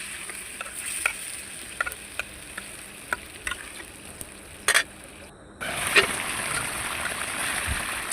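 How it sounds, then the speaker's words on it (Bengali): Pangasius fish pieces with taro stirred into spiced masala, a soft sizzle with scattered scrapes and clinks of a spatula, the frying growing louder midway as more is added to the pan. "আমার কষানোটা হয়ে গেছে মশলাটা, এখন মাছটা দিয়ে দিলাম।"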